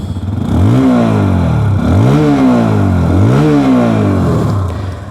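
A TVS Apache 160 2V or Bajaj Pulsar P150 motorcycle exhaust revs three times in a row, each throttle blip rising and falling sharply, loud and close over a steady idle.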